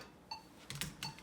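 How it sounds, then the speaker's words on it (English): Two sharp, faint ticks about half a second apart, each with a brief bright click, over a quiet background. "Having the metronome back on."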